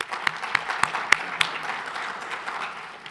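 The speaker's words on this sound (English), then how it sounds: "Please give him a round of applause." An audience at a public panel on the Teacher Retirement System crisis breaks into a steady burst of applause, a dense wash of clapping with a few sharper nearby claps standing out.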